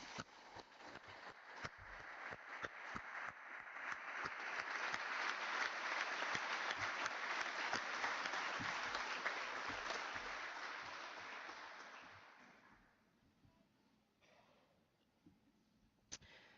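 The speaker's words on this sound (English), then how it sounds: "please join me in a round of applause to congratulate these graduates on their achievements." Crowd applause for graduates at a high school commencement ceremony swells to a broad, dense roar of clapping, then tapers off to a few scattered claps and near quiet by the end.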